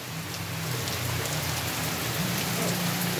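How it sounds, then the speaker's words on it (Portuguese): Heavy rain pours down in a dense, steady hiss in rural Carnaubal, Ceará, Brazil, loud and constant throughout, with a faint low hum underneath. "quando a chuva é forte, a água vem com força"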